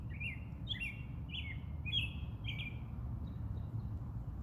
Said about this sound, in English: Like I hear birds chirping up in the trees right now.